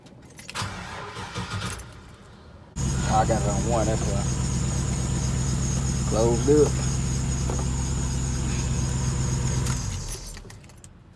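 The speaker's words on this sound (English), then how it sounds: "Let me start this car." A car, a white box Chevy under rewiring, cranks and catches at once, then settles into a steady, loud idle that runs for several seconds before cutting off, with keys jangling beforehand and someone talking over it.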